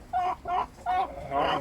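Chickens cluck in a coop holding a rooster and hens, Bielefelder and Malines Turkey Head breeds, in four close, loud, evenly spaced calls.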